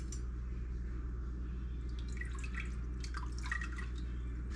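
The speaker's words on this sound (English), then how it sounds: "let's go ahead and stir this into our milk" A spoon stirs frozen culture into raw skim cow's milk, giving soft, faint liquid swirls and light clinks against a steady low hum.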